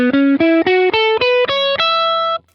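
A distorted electric guitar climbs the minor pentatonic scale one note at a time, about seven evenly spaced picked notes, the last held and fading out.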